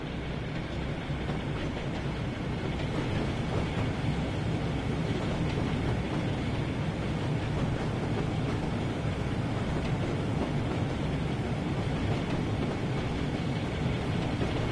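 A diesel train running on a UK route in Train Sim World 3, a steady rumbling drone with faint rail clatter, constant and moderately loud with no talk.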